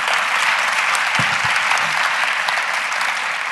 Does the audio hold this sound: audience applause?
yes